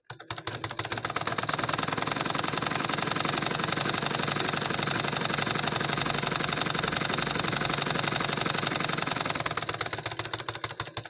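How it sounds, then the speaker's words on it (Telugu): A sewing machine runs steadily for about ten seconds while stitching a double seam on a cotton lined blouse, with a close, fast, even mechanical chatter that starts and stops cleanly and no talking. "ఇప్పుడు డబుల్ కుట్టు అనేది కుడదాము."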